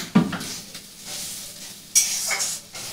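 Spice paste stir-fried in a pan with sugar and salt, a soft hiss of frying punctuated by a couple of sharp scrapes and clinks of a spatula against metal, close and brief.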